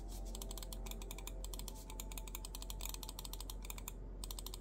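Rapid, light computer mouse button clicks repeat steadily in quick bursts over a faint background hum, close and crisp, with no voices.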